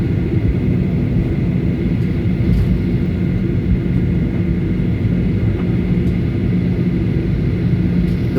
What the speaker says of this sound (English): As we were taxiing out to the runway for takeoff, we passed by a lot of grounded narrow bodies and wide bodies